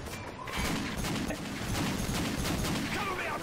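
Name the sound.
pistol gunfire in Call of Duty video game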